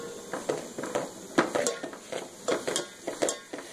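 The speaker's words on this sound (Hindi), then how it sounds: "ये डाल करके हमें इसे अच्छी तरह भून लेना है।" Maize flour being stir-roasted in vegetable oil for sarson ka saag, a spoon scraping and clinking against the pan in an uneven rhythm of close, moderately loud strokes over a soft sizzle.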